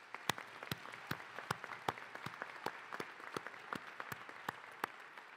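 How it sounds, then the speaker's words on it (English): A graduation ceremony audience applauds steadily, with sharp individual claps ringing out over a soft wash of clapping in a large hall, moderately distant. "Please give them all a round of applause."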